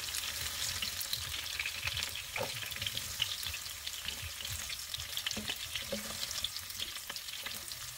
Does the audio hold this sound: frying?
yes